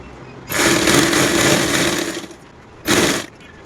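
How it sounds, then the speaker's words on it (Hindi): An electric sewing machine stitches fabric for a small child's coat. It runs in a loud, steady whir for about two seconds, then gives one short burst. No one speaks. "अब इसमें हमें सिलाई लगा देंगे बीचों बीच"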